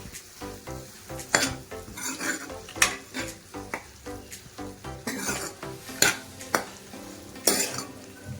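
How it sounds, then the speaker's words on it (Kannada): Chopped tomatoes are stirred and cooked in a pan for a Kannada tomato saaru, giving repeated scraping and clinking strokes of a utensil against the pan over a soft sizzle, with no talking. "ಕೊನೆಯದಾಗಿ ಹೆಚ್ಚಿಟ್ಕೊಂಡಿರುವಂಥ ಟೊಮೆಟೊ ಕೂಡ ಸೇರಿಸ್ಕೊಂಡು ಚೆನ್ನಾಗಿ ಮಿಕ್ಸ್ ಮಾಡ್ಕೊಳ್ಳಿ"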